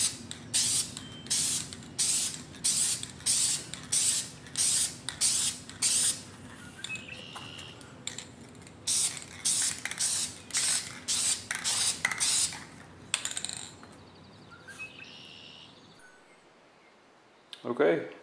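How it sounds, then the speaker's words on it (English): A clear coat is sprayed onto a stock motorcycle windscreen in a rhythmic series of short, close hissing bursts, one every second or so, before the spraying stops and quiet follows. "just spray across like this and just do a nice light coat."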